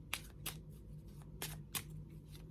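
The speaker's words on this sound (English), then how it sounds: "so I'm going to keep shuffling" Tarot cards are shuffled in a few brisk riffling bursts separated by short pauses, close and quiet over a low background hum.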